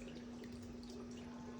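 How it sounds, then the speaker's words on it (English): Gravy poured over oxtails in a baking dish, a steady liquid splashing stream running close and continuously throughout. "We're gonna pour all that gravy in there just like that."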